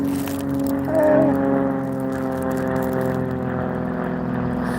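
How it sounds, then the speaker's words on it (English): A small crop duster plane flies overhead, its steady droning propeller engine humming throughout with a slight swell early on, fairly loud and constant. "these little bitty crop dusters keep flying over"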